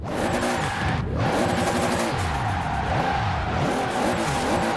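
A Toyota AE86 tuned to about 1,600 horsepower on low tire pressure, driven in Forza Horizon 4, revs hard and holds a loud, continuous engine roar as its tires spin and squeal throughout.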